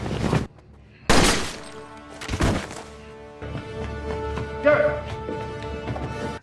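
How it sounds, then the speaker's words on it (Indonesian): Gunshots in a revenge film crack out as several loud, sharp bangs in quick succession, followed by ringing music and background tension under a voice. "Suara tembakan tadi terdengar ke seluruh penjuru rumah."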